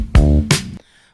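A deep sampled bass loop plays two sustained, rounded notes with a light, simple drum hit behind them. The phrase cuts off abruptly into silence.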